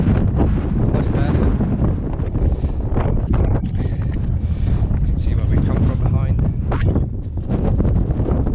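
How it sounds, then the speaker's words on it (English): Strong wind buffets the microphone in a constant loud roar of rumbling gusts throughout, near the summit of Scafell Pike in the Lake District. "Windy, not the best with heavy backpacks on either, but almost there."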